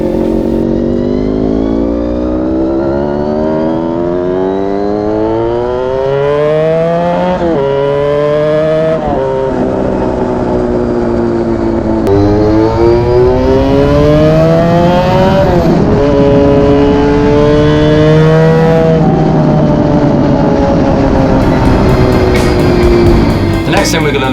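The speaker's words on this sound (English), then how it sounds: "this bike has a nice whine to it from its straight cut gears" A Honda V4 motorcycle runs and revs up through its gears, the engine note climbing repeatedly with a whining straight-cut gear tone over it, loud and continuous, with a voice speaking over parts of it.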